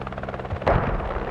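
A military helicopter in the tactical shooter game Squad gives a steady, rapid rotor thump, near and loud, with a sharp burst of gunfire cutting in halfway through.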